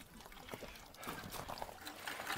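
Water is poured into a duck's water container at a farm, a faint, uneven splashing and trickling in brief bursts.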